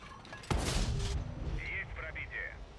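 One heavy cannon blast from an STRV 122A tank in a video game booms out sharply, followed by a rumbling tail and scattered metallic game effects, with no voices.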